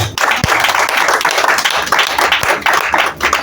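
A church congregation applauds together in a steady, dense wash of clapping that carries on throughout, loud and close, with no voices over it.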